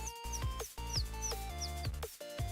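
A person imitates birdsong with their voice, a string of short whistled chirps and tweets over a steady background of music.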